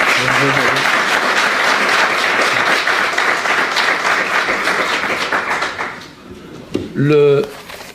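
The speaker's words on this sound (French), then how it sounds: "S'il vous plaît, vous pouvez l'applaudir" A church audience applauds a pastor welcomed as a speaker, with loud, dense clapping that fades away, followed by a brief burst of speech.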